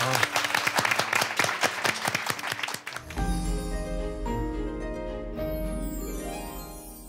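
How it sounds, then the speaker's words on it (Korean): Audience applause of encouragement at a book-reading event, a burst of sharp, fairly close clapping for about three seconds that gives way to soft music. "우리 함께 응원의 박수 좀 보내드릴까요?"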